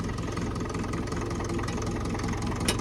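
A Ferguson TE20 tractor runs with a finger bar mower attached, its engine chugging in a steady, rhythmic low throb under the mower's constant clatter, fairly near and continuous.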